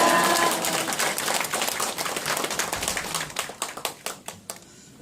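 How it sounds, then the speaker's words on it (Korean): Warm applause in a church service welcoming a pastor to the pulpit, dense clapping from a congregation that thins into scattered claps and fades out. "우리 김남근 목사님 나오실 때 우리 뜨거운 박수로 할렐루야 맞이하겠습니다."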